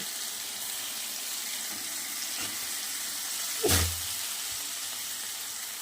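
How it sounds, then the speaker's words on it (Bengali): A steady sizzling hiss from mourola fish frying in a pan, with a brief louder splash and bubbling burst as a little water is poured in midway, then the even sizzle continues. "বন্ধুরা আমি জল দিয়েছি"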